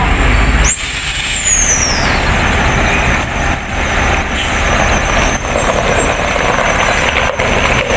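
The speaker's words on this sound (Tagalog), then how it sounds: "May dumating na yung pang-apat na truck." A ready-mix concrete truck arrives at a hospital construction site, its heavy diesel engine rumbling loud and close throughout, with a brief hiss like an air brake near the start.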